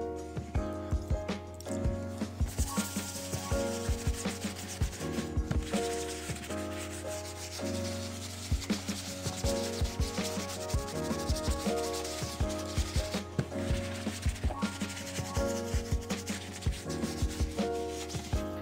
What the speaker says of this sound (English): when you're using the soft bristle brush, that's to be able to lift the dirt